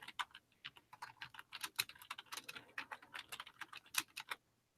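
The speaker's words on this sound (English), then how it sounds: "That's me typing." Brisk clicking of fingers typing on a computer keyboard, a fast irregular run of sharp key taps that stops abruptly near the end, with no one talking.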